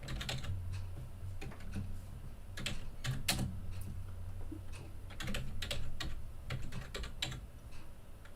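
Computer keyboard typing a search into a cloud console search bar, irregular close key clicks in quick bursts and pauses over a low hum.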